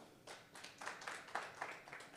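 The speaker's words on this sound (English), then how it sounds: "If the task was just harder, can you clap?" A small audience claps, a brief patter of hands in a few quick bursts. Faint and close together, with no talking over it.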